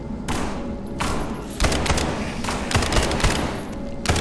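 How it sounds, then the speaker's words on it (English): Enemy gunfire rattles in SCP:5K, a tactical horror shooter: loud, close, repeated bursts of rapid automatic shots with heavy thumps, continuous through the whole stretch. "Those things are shooting at us."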